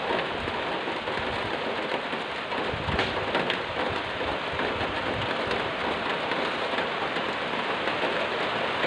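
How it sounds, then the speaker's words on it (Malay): Light, steady rain falls throughout, an even wash of patter with no voices, like drizzle heard outdoors at a gathering. "Ada hujan sikit-sikit"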